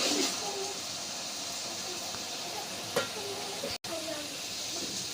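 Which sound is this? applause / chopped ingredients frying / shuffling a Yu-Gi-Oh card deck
chopped ingredients frying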